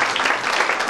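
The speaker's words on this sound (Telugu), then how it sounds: "ఒక్కసారి గట్టి చప్పట్లు" An audience at a state-level mathematics talent competition event applauding, a dense burst of clapping, loud and close.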